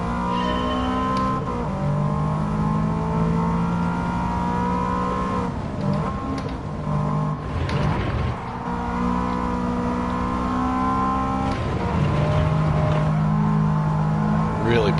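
A race car drives in Gran Turismo 7, its engine droning steadily and rising and falling in pitch through gear shifts and turns, sounding continuously under game background noise.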